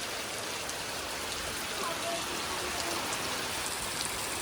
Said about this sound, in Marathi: पाणी वाहते म्हणजे विचार करा किती पाऊस पडतोय.